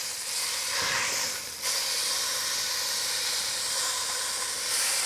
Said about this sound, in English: Let's get a little bit of sear on the sides here.